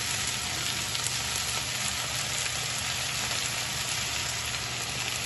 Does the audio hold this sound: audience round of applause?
no